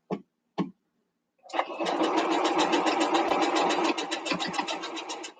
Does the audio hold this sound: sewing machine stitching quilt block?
yes